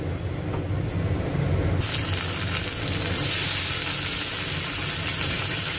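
Tomatoes go into a pan of browned onions for a tomato chutney, the steady frying sizzle jumping into a louder, brighter hiss as they hit the hot oil, with stirring throughout.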